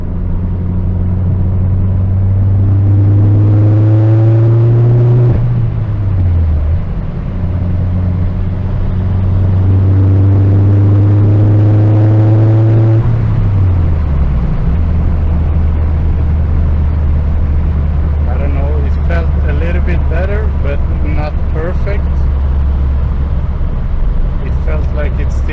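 A Saab 9-5 Aero with the roof open pulls hard in third gear, its engine droning and rising in pitch through two long, loud surges before settling, with voices coming in near the end.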